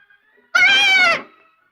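A young goat lets out a single drawn-out bleat, close and loud with a wavering tone, lasting about half a second against otherwise quiet surroundings.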